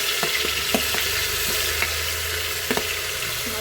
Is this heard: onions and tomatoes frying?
yes